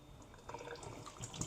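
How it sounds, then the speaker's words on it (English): Raw meat being washed in water at a sink, with faint running and splashing water and a few soft drips, quiet and close. "so we wash it thoroughly as possible, and then we strain off this water"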